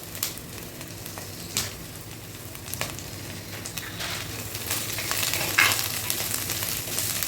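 Curry leaves fry in hot oil for a traditional Kerala milk curry of snakehead fish with mango, giving a steady soft sizzle and crackle with a few sharper pops and some stirring, and no one talking.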